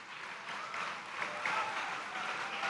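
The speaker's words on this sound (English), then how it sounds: "please applaud" Gallery audience applauding at a university graduation convocation, a soft, steady patter of many hands clapping at a distance.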